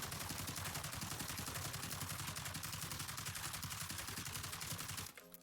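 Rapid sustained automatic fire from an AUG rifle in Call of Duty Warzone, loud and close, a steady rattling stream of shots for about five seconds before cutting off abruptly.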